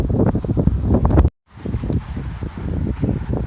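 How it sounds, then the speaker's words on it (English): Gusty wind in Montana buffets the microphone in heavy bursts with rustling, briefly cutting out before the rough blowing resumes. "Pretty windy still"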